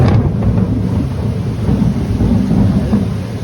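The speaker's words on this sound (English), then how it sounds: "I think a thunder is coming on, guys." Thunder rolls through a heavy rainstorm, a loud, sustained low rumble swelling and easing over steady rain, close and with no talking.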